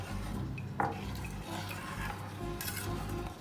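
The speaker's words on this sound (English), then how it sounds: "we have to add the hot milk. Then mix it very well." Hot milk being stirred into a mac and cheese sauce in a pot, with a spoon scraping and clinking against the pot and a soft liquid swirl, including one sharper clink near the start.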